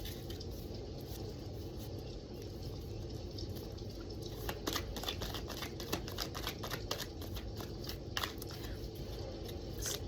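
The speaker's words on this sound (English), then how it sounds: "these cards are still fairly new, so they don't shuffle well sometimes." Crisp riffling clicks of a fairly new deck of cards being shuffled, close by over a steady background hiss, with bursts of rapid snapping.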